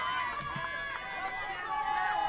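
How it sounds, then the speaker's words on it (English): A crowd at a Bhutan versus Myanmar women's T20 international cricket match gives off a steady, busy murmur and cheering that swells slightly toward the end, with a commentator talking over it. "Here the crowd are getting ever so louder."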